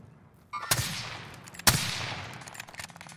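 Enemy gunfire in Call of Duty: Modern Warfare, two sharp loud gunshot cracks about a second apart, each followed by a long echoing decay, with scattered fainter shots trailing after.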